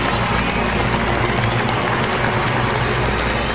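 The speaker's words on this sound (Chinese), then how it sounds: "掌声有请。" Studio audience at a Chinese health programme breaks into loud, dense, continuous applause to welcome a medical professor guest, sustained and even throughout.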